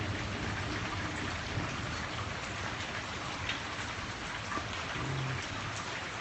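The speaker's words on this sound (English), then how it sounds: "it just started raining a little while ago" Heavy rain pouring steadily during a thunderstorm in the San Fernando Valley, a dense continuous hiss of drops on surfaces throughout, close and even, with no voices.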